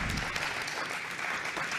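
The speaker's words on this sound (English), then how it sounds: "Join me in giving a warm round of applause for our panelists." Audience at a children and families conference gives panelists a warm round of applause, a dense, steady wash of many hands clapping close by with no pauses.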